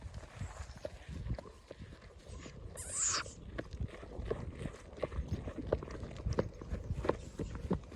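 A mare's hooves clip-clop at a steady walking pace on a rural village road in Ivano-Frankivsk region, close and fairly quiet, with a brief sharp noise partway through and faint talk in the background.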